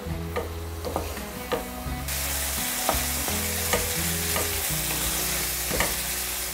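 Peppers sautéing in a pan for çoban kavurma, with a sizzle that jumps to a loud, steady hiss partway through and is broken by periodic spatula scrapes and clicks, close up with no speech.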